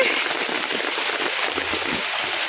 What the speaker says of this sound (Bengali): দেখো কি পরিমাণ বৃষ্টি হচ্ছে